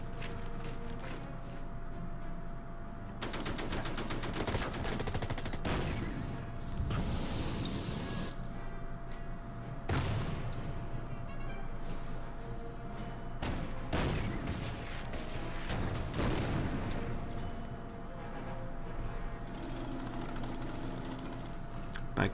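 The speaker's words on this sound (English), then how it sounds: "So I'm gonna do some strafe running with my ME Messerschmitt 262." A Messerschmitt Me 262 makes strafing runs in the video game Order of Battle, with repeated bursts of rapid rattling cannon fire over a continuous engine-like drone, heavy throughout.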